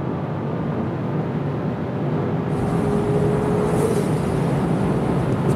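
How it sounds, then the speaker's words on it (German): A G-Power tuned BMW M5 CS rated at 800 PS and 1050 Nm surges at high speed, its engine roar and rushing wind filling the cabin and growing louder and brighter partway through. "So muss ein M5 CS klingen und so muss der fahren."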